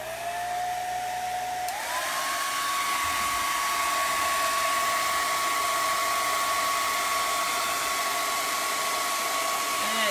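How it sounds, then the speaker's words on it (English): A handheld blow dryer runs continuously at close range while drying a craft project, its steady whooshing whine switching up to a higher setting early on and holding loud and even. "I'm going to grab my blow dryer"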